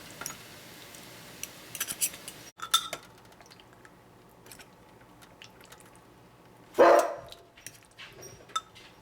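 A dog barks indoors in a home kitchen, one loud sharp bark near the end, amid clinking dishes and cutlery and quiet household noises.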